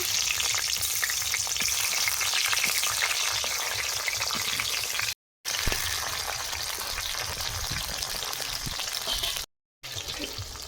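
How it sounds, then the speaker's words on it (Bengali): Pointed gourd (potol) fries in hot oil left over from frying luchi, giving a steady close sizzle and crackle that runs on for several seconds, broken by two short silent gaps. "পটল ভেজে নেবো"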